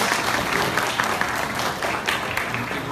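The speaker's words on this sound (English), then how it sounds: "we can start this one off with a round of applause for all our graduates" Sustained applause from an audience honoring graduates at a 2018 scholarship ceremony at an Islamic complex in Detroit, dense and steady throughout without pause.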